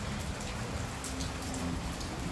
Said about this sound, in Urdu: اور یہ اولے پڑ رہے ہیں جی, موٹے موٹے اولے.